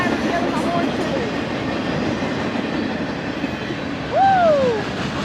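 Eastbound Union Pacific mixed freight train rolling past with steady low rumble and wheel noise, a rising squeal or horn-like tone near the end, heard alone without talk.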